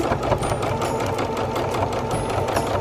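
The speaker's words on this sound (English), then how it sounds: "keep that edge of the fabric right along the edge of the presser foot, and sew that way all the way across" A sewing machine stitches trim onto fabric at a quick, steady pace, its rapid mechanical whirring and ticking continuous and close throughout, with no voices heard.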